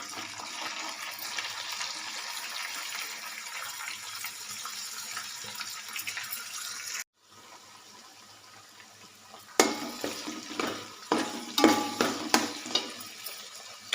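Chopped onion and ginger paste fry in a pan for a spicy gongura prawn curry, with a steady sizzling hiss, a brief break, then louder sizzling and scraping stirring clatter near the end.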